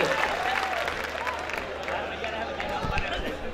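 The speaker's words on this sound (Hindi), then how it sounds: "आगे से पीछे तक एक बार तमाम हजरात जोरदार तालियां बजा दें" Audience at a mushaira, an Urdu poetry gathering in Sakinaka, Mumbai, clapping loudly and steadily across the hall, dense applause filling the room with crowd noise and some voices mixed in.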